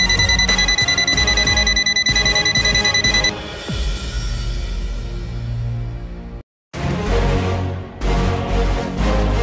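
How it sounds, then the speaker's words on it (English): An ANENG SZ18 multimeter beeping during live wire detection, loud rapid electronic beeps in bursts, with a quieter stretch of rustling handling noise between them and a brief silence before the beeping resumes. "Firewire recognition, it will emit a quick beep."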